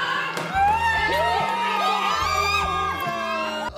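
People on a German reality dating show scream and shout excitedly over a loud cheering crowd, with layered voices and whoops and steady background music underneath.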